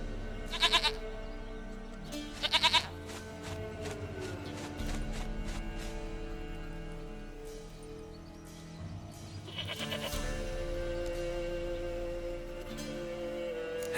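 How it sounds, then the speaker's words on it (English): A goat bleats in The Witcher 3 video game, two short wavering bleats near the start and another later, set over a low steady game ambience with no talk. "Goat of mine, dearest, sweetest goat."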